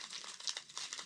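A sugar packet from a 1979 military MRE is torn open for instant coffee, giving a faint, quick papery crinkle and rip up close.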